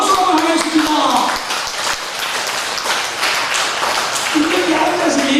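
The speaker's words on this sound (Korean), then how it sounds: "영계에서 두 분의 권사님을 크게 협조하라고 박수 한번 하겠습니다" A church congregation at a Korean family church worship service claps together in a burst of applause, the clapping mixed with voices speaking over it.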